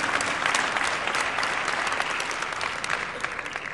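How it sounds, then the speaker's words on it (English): A crowd applauds steadily, dense clapping filling the room at a consistent, fairly loud level throughout. "Let's give them a round of applause."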